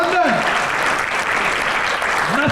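Sustained applause from a large audience at a London charity gala dinner, steady dense clapping throughout with a voice calling out briefly over it at the start and end.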